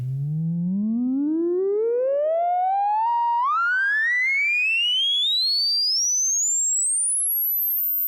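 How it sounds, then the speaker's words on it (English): An Electrosmith 3340 analog VCO synthesizer outputs a pure sine tone sweeping smoothly upward from a low hum to a piercing high pitch, steady and loud for the whole stretch, alone with no other sounds. "Let's check out the sine wave first."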